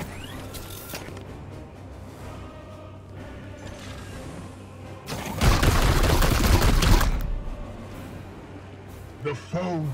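A loud, sustained burst of rapid gunfire lasting about two seconds in the tactical game Chaos Gate: Daemonhunters, during a fight with the daemon Malathian the Harvester, rises above quieter background sound, with a voice talking nearby.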